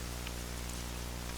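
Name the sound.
rain drumming on a metal roof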